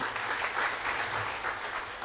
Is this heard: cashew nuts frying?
no